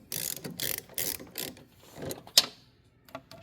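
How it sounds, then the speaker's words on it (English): A torque wrench ratchets in quick bursts while bolts are drawn tight on a Jaguar XK8 front suspension, several sharp clicking runs close up followed by a single metallic snap and a few softer clicks. "Let's get a torque wrench and torque that up."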